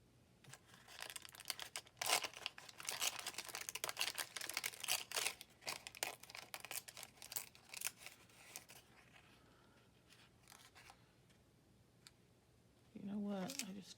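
Rice paper is torn and crumpled by hand for a collage, with close, crisp bursts of rustling and ripping in uneven clusters, then quieter handling and a voice at the end.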